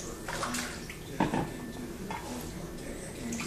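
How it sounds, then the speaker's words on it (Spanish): Water splashes and sloshes inside a blender jar being rinsed, with faint clinks of glass, a soft rinsing sound at close range. "Tiramos un poquito para enjuagar el vaso de la licuadora."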